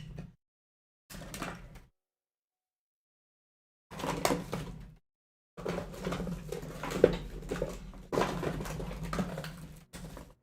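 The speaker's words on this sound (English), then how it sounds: "It might be in this drawer." Someone rummages through a medicine drawer, making bursts of rattling, shuffling and light clattering of small items, separated by silent gaps and close to the microphone.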